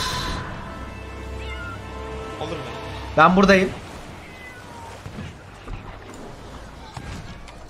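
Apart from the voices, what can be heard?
cat meowing in the video game Sea of Thieves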